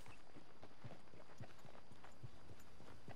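Soft, evenly spaced hoofbeats from a horse walking at an easy pace in the video game Red Dead Redemption 2, faint and steady with no talk over them.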